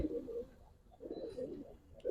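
A silver Giribaz pigeon coos close by in soft, low, rounded phrases, three or four throaty bursts repeating over a couple of seconds with quiet gaps between.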